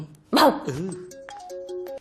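A human voice imitates an angry puppy with one sharp, close yelping bark that trails into a whiny growl, followed by a few faint electronic beeping tones.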